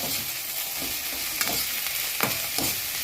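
Onions fry in a pan with a steady, bright sizzle, and a few scraping spoon strokes stir them as they brown, close and continuous, with no talking.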